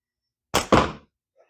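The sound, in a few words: slingshot shot with Tritium Rose bands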